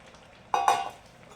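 Cooked moong dal water poured into a hot pan of bottle gourd kootu makes a sudden, brief sizzling splash that fades within half a second.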